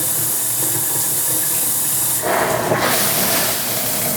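A steam shower generator runs its body sprays, a steady broadband hiss of spraying water that swells louder and brighter partway through and continues alone without talk.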